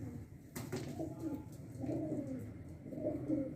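A Sialkoti pigeon coos softly and close by, a few low rolling coos repeating at a steady pace against quiet background noise.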